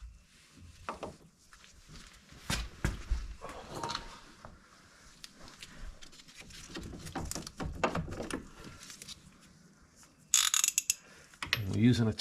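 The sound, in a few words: ratchet wrench turning bolts while removing brake caliper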